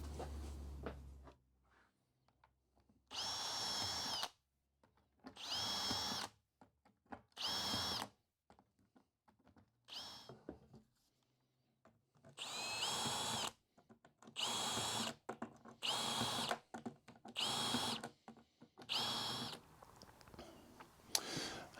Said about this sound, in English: Then drill the holes.